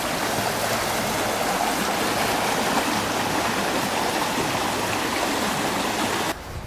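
Steady, dense rush of water pouring through a drainage culvert fitted with a new culvert guard on a ravine property, loud and continuous with no voices, ending in a slight drop at the very end.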